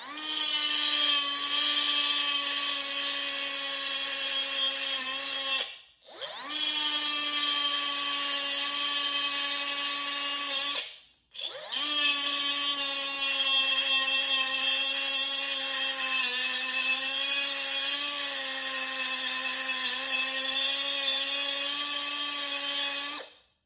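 Power tool shaving off half of a plastic piece on a Dodge Charger widebody kit, a steady high-pitched whine running loud and close for long stretches, broken by two brief stops.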